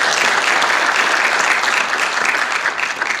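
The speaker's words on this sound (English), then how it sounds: "We can give them a round of applause." An audience at a high school athletic signing day applauds the signing athletes in a loud, steady round of clapping that fills the room without a break and with no talk over it.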